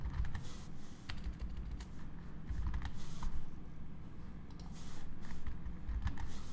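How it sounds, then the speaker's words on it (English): Fast, continuous clatter of typing on a computer keyboard while writing Java code, with dense, close keystrokes and a few sharper clicks, and no talk over it. "I'm just trying to quickly type public here."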